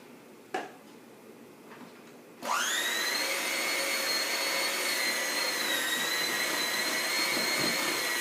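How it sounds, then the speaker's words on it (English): After a couple of faint clicks, an electric hand mixer starts up and runs steadily and loudly, blending whipped topping into a thick peanut butter pie filling. "It's going to give your hand mixer a workout."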